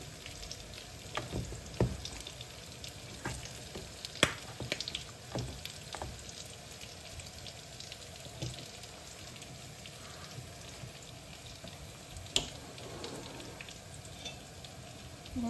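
Meat frying in a pan with mixed hot and cool ground spices gives a quiet, steady sizzle, broken by scattered crackles and pops. No one speaks.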